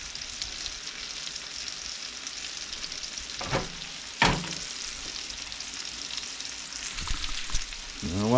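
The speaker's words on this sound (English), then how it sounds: "I'm just going to reduce this and let these cook down a little bit further" Vegetables cook down in a hot pan beside a beef roast with red skin potatoes and carrots, a steady close sizzle with a few sharp stirring clatters.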